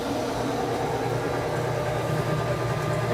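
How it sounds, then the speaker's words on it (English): Camp Chef pellet grill auger turning, a steady low mechanical hum and drone that holds at an even level for the whole stretch, with no talk over it. "The auger is definitely turning."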